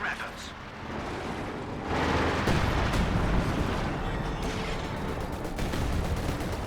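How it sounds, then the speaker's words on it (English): Anti-tank gun fire and battle noise from Company of Heroes 2 form a dense, continuous rumble of shots and blasts, louder from about two seconds on, with a voice faintly present underneath. "Yes, I'm getting shot by the AT gun a little bit"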